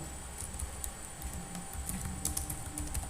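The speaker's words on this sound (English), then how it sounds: "My invocation name is Tiogen, so I just type it." Typing on a computer keyboard while entering an invocation name for a trivia game skill, soft irregular keystrokes over a steady background hum, faint and close.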